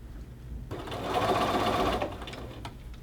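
A sewing machine stitches a cuff seam onto the bottom of a shirt sleeve in one short, steady run that rises and fades over about a second, close and alone.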